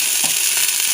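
Onion frying in hot white oil for a spicy red chilli chutney for momos, a steady hiss of sizzling close by with no talk.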